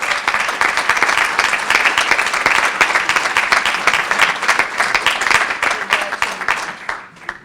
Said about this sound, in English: So that deserves applause.